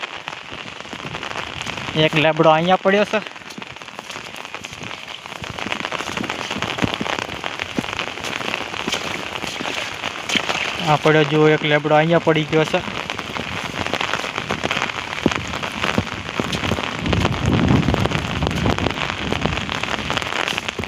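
Heavy rain pours onto a waterlogged castor field, a constant loud hiss of drops beneath someone talking.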